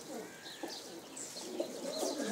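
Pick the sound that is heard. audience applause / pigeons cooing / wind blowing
pigeons cooing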